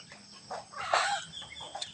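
Farm chickens clucking in short, uneven bursts at close range, with a few sharper squawks and no voices over them.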